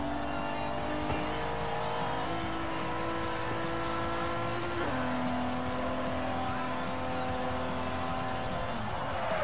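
Mercedes car engine in the video game Forza Horizon at night, a loud continuous droning roar with rising and shifting engine tones, someone talking over it.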